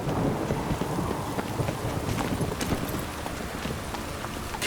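Rain hisses steadily in The Witcher 3 video game, with low rumbles of thunder and hooves clip-clopping in the foreground.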